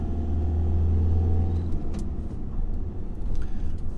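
Cars in slow road traffic in Guernsey, heard as a steady low engine rumble and passing road noise close by, moderately loud and continuous with no talking.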